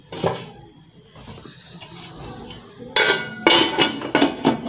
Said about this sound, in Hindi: उतनी देर मैं काट लूँ आलू